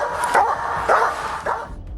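A police dog barks three times in steady, spaced bursts, loud and close, sent into a building through a broken window during an arrest, with a muffled hiss of background noise between barks.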